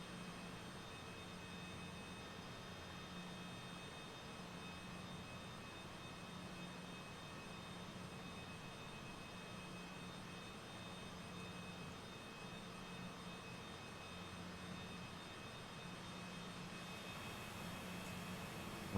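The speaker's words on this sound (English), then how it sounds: "We'll do a engine shutdown. Like listen to those engines shutting down" Twin jet engines of a Cessna Citation CJ4 in a flight simulator spool down after parking, a steady droning hum with a faint pulsing low tone holding evenly throughout, with no voices.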